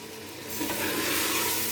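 Browned chicken frying with spices in a pan for chicken handi, a brief sizzle that swells after a quiet start and holds steady, close and without talk.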